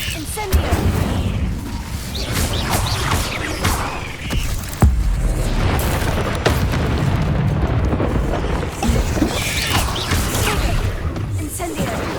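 Bombarda explosion spells in Hogwarts Legacy, heavy booming blasts and crashing bursts over a dense battle mix, loud and continuous with repeated impacts.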